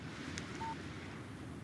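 A short phone text-message alert in the Alan Wake video game: a thin, clean tone sounds once over steady low wind-like ambience, fairly quiet and brief.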